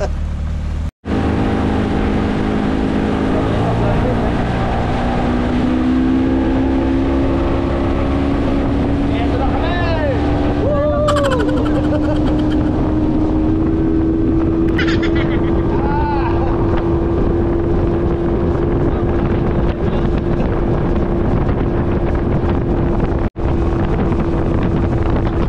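A fishing boat engine catching and then running steadily, a loud continuous drone rising slightly in pitch, buffeted by wind, with people talking faintly over it.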